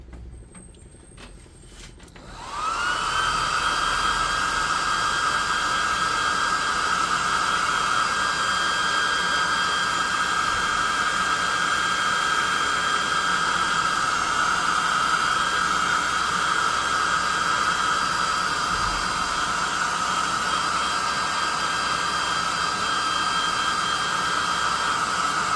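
Hair dryer or heat gun drying a freshly painted custom monster miniature, switching on after a brief moment of handling and then blowing steadily and loudly for a long stretch with a constant whine.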